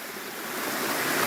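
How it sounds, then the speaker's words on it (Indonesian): Water running over rock in a small cascade gives a steady, even rush of close hiss that builds slightly louder, with no voices. "Tujuannya supaya ada air netes."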